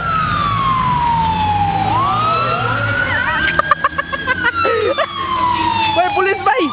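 A police siren wails loudly nearby, its pitch sweeping down and up, with sharp clatters and other noises breaking in over the second half.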